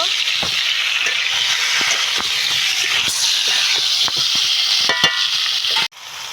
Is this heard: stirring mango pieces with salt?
yes